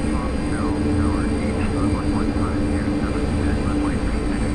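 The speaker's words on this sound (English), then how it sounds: "I want to run the engines up a little bit." The engines of a Douglas World Cruiser in a flight simulator game run up into a steady, loud droning roar that holds for the whole stretch, with faint radio-like voices murmuring beneath it.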